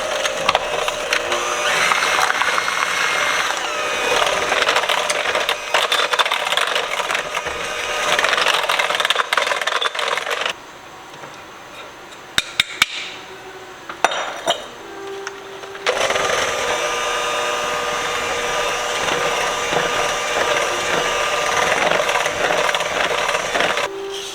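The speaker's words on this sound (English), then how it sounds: "I'm just going to add a half of it and mix it, and then the rest." Dry ingredients being mixed into pumpkin cake batter, heard as a steady, close whirring and scraping that stops for a few seconds and is broken by a few knocks before resuming just as loud.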